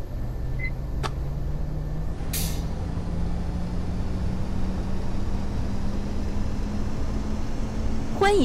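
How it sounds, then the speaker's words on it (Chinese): City bus running in the OMSI 2 simulator, a steady low engine drone with rising pitch as it gathers speed, a brief hiss of air near the start and a chirp at the end, no talking. "欢迎乘坐五二五路公交车，本车开往海中村总站"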